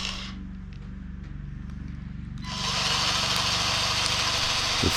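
A Vevor cordless grease gun runs as it bleeds out air and grease, its motor whirring low at first, then turning to a louder, harsher buzz partway through.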